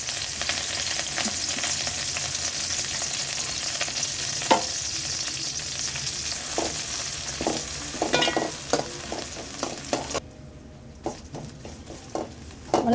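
Pennywort (vallarai) leaves sauté in hot oil for a chutney, giving a steady close sizzle with repeated scraping stirs of a spoon in the pan, no voices.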